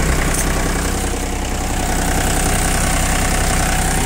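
A Japanese four-wheel-drive mini tractor with a cab idles its three-cylinder engine, a steady, even, close-up mechanical rumble that holds constant throughout with no talk over it.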